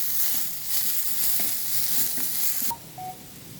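Onions and green chillies hiss loudly in hot oil in a pan with a few spoon scrapes, until the sizzle drops off sharply near the end, leaving a couple of brief beeps.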